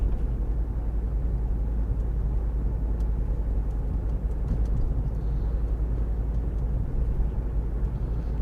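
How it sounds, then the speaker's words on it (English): A car drives at night on a soft road verge near Dungeness, producing a steady, loud low rumble of engine and tyres on the rough surface, with faint crunches and ticks over the top. "I'm driving on the soft verge now."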